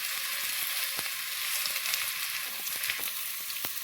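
Onions sautéing with salt in a pan for biryani give a steady, close sizzle with scattered sharp crackles throughout, with no voices.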